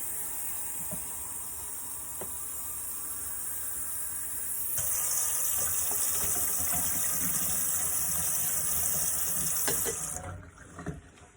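Tap water runs into a container while a disinfectant solution is mixed in a salon setting, a steady hiss that grows stronger midway as the flow increases, then cuts off near the end.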